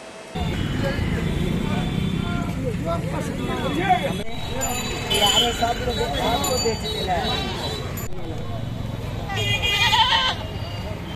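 Goats bleat repeatedly amid a crowded Bakrid livestock market near a mosque in Laheriasarai, with constant crowd babble, people talking and occasional passing vehicles.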